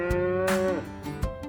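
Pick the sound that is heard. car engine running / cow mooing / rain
cow mooing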